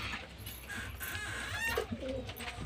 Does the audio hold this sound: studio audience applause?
no